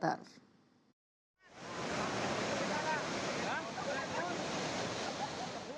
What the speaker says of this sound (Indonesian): Derasnya air sungai Luk Ulo membuat sebuah badan jembatan ambrol.